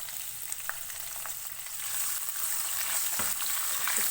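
Chopped medium onion fries in oil with whole spices over a medium flame, a steady close sizzle that swells louder midway, with a few faint stirring taps.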